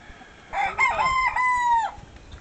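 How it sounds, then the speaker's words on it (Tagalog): A rooster crows once, loud and close, in a rising then held cock-a-doodle-doo, amid chickens at a poultry sale; faint background noise before and after. "Gusto mo mga babaeng manok, lalaking manok?"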